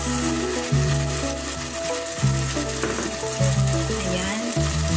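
Fuzzy melon fries in a pan with a little oyster sauce, giving a loud, continuous sizzle with scraping and stirring throughout.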